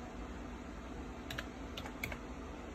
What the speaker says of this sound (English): You start typing here